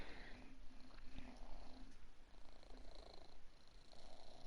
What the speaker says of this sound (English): You purr so loud, you know that?